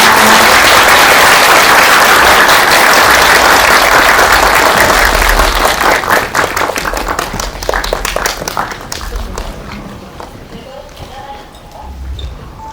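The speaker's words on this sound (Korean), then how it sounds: "박수로 맞이해 주세요." A large cinema audience at a Seoul director's Q&A screening breaks into dense, loud applause that holds for several seconds, then thins into scattered claps and fades as a voice begins.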